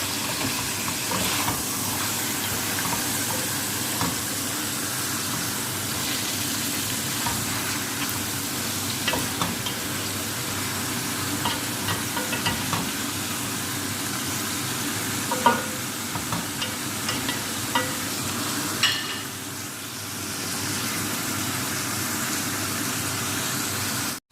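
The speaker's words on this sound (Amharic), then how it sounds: "የፈላ ውሃ ትጨምራላችሁ" Boiling water added to a cooking pot makes a steady sizzle and hiss that runs on with occasional stirring clicks and scrapes. No one speaks.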